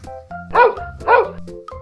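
A dog barks twice in quick succession, two sharp, loud yaps close by over a low background hum.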